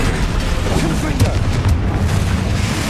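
Confringo fire spell explosion from the Hogwarts Legacy video game on hard difficulty, a dense booming blast with crackling fire layered over continuous loud battle noise and rumble.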